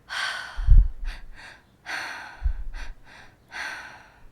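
Someone does a breathing exercise, inhaling twice and then exhaling: three rounds of breathy, close-up air sounds, each with quick double intakes followed by a longer outward breath, with no speech.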